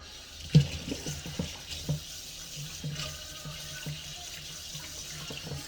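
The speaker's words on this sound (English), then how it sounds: "I want to wash my hands right quick" A tap runs into a kitchen sink while hands are washed, a steady close trickle and splash with a few louder knocks and splashes near the start, no voices.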